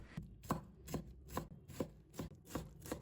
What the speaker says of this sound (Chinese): 再把它切成细丝， 然后切成小丁